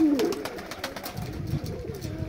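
Pigeons cooing close by, soft low throaty calls rolling over a steady outdoor background hum, with no talk.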